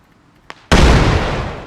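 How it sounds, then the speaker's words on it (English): A single grenade or molotov blast in a video game, a faint click followed by a sudden loud, booming explosion that rumbles and slowly decays, close and alone. "Grenades are being thrown."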